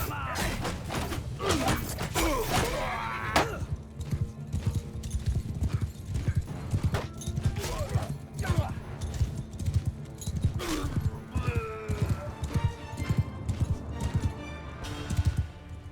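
Galloping hooves of charging cavalry horses in the video game Mount and Blade 2: Bannerlord thunder continuously, with occasional neighs and thuds in a busy, loud battle-like scene.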